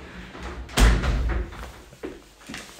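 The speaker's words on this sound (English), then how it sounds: "Sliding door." A sliding glass door on a roller shuts on a corner shower in a studio flat bathroom with large grey tiles, one firm thud followed by a short rolling rumble and a couple of lighter knocks.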